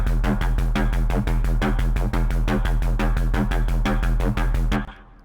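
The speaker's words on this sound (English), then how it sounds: "this is the Phase Plant Space Pirate Neurofunk Stormtrooper Imperial" Phase Plant neurofunk drum and bass synth bass and lead preset, a loud, dense pulsing pattern with steady rhythmic hits and gritty harmonics that plays alone for about five seconds, then cuts off abruptly.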